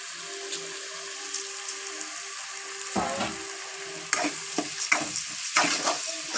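Food frying in a pan, a continuous close sizzle broken by several louder stirring and scraping bursts in the second half, with no speech.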